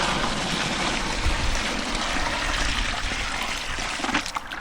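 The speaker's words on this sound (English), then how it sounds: "half fill the hole with water." Water from a builder's bucket pours steadily into a freshly dug fence post hole, a continuous close splashing gush that runs throughout with no talking.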